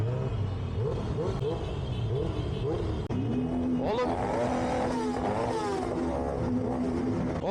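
Motorcycle engine revving at a gathering of Turkish motorcyclists for a flag ride in Sakarya, loud and continuous with rising throttle sweeps, while people talk nearby over the engine noise.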